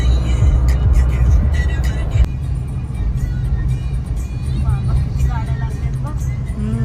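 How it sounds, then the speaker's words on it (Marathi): Busy road traffic on a market street during Diwali shopping for fireworks, a steady loud rumble of many vehicles with occasional horns, under talking voices. "फटाके घ्यायला एवढ्या गाड्या लागल्या"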